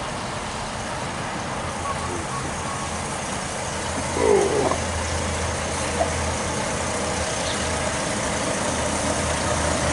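Son's new pickup truck driving past a house with no trailer, a steady engine drone heard from a distance under constant outdoor noise, rising slightly as it passes.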